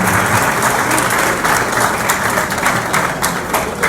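Sustained, loud applause from a crowd at a pigeon-flying championship trophy and prize-giving ceremony, dense and steady throughout with no talk on top.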